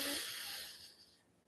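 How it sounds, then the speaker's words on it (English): Slow breath drawn in through the right nostril during alternate nostril breathing, a soft airy hiss that is strongest at the start and fades away over about a second and a half. "we're just breathing in through the right"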